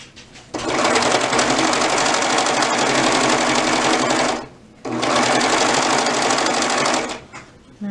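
A serger sewing machine stitches fabric in two loud, fast-buzzing runs of about four and two and a half seconds, separated by a brief pause, with a short quiet stretch before and after.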